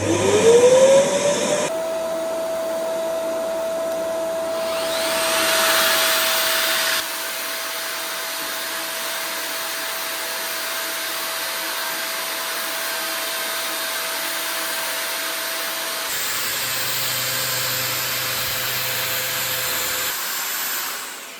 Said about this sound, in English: apparently I don't have the correct fitting for the vacuum cleaner